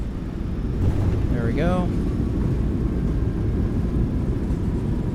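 Simulated PMDG 737 rolls out after landing with reverse thrust engaged, a steady low engine roar filling the cabin without letup while a voice speaks briefly over it.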